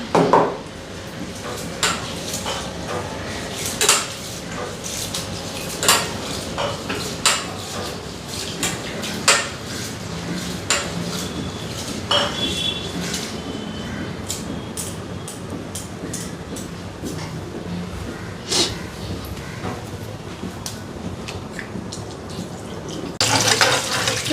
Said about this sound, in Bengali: চালটা ধুই আনি এখন